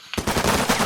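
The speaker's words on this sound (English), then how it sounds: "After all that shooting." Rapid gunfire bursts out in the Lock 'n Load Tactical digital war game: a fast, loud string of shots that starts abruptly after a quiet moment and rattles on without pause.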